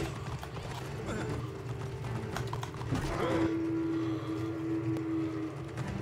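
A horse's hooves clip-clop at a steady walking rhythm in the Assassin's Creed Origins video game, the hoofbeats moderately close under a low game ambience, with a tonal hum entering partway through.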